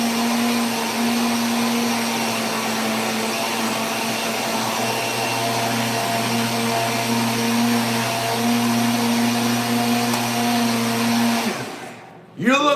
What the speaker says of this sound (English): I'm gonna turn on the blender